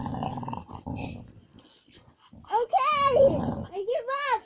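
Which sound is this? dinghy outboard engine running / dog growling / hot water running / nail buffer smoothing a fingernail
dog growling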